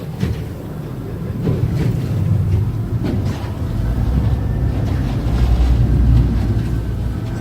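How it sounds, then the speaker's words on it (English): Low, steady engine rumble of a 2019 28-foot Duckworth boat on the water, with wind buffeting the microphone, droning continuously at a constant level as the boat spins in place. "So you can sit here and spin the boat."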